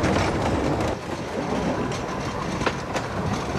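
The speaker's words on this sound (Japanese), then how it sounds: "ここから主役を務めるのはトロッコ列車。 大正時代に敷かれた線路が今も使われているのだ。" Logging trolley train running on rails laid about a century ago on Yakushima, a loud, continuous close rumble with rattling wheel clatter and occasional clicks throughout, no voices.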